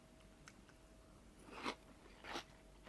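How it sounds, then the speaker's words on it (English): Cornflakes in milk, Kellogg's and ALDI, are crunched in the mouth in a taste test: a faint tap, then two short, close crunchy bites a little under a second apart in a quiet room. "crunch test."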